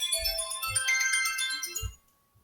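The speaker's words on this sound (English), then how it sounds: "I'm actually just going to walk away while I answer my wife's phone call" A phone rings with an incoming call, a bright tonal ringtone melody with low pulses that plays steadily and close, then cuts off abruptly near the end.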